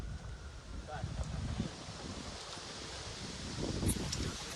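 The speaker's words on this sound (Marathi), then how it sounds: "काय गार हवा लागली भावांना रानात" Cool wind gusting across an open farm field, a steady broadband rush with rustling, while someone talks over it throughout.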